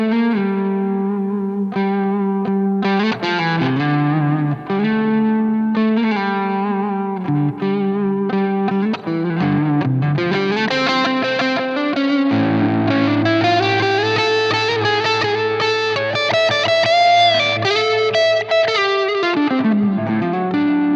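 Electric guitar played through the Blackstar St. James amp plugin with delay feeding into reverb: distorted sustained chords and melodic lines with shimmering echoes and a long ambient wash, building to a thicker, fuller passage in the second half.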